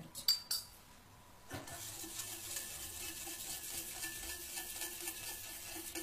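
Stirring cookie dough in a bowl with a utensil, a few sharp clinks at first, a pause, then a soft continuous scraping and swishing that stays quiet and close.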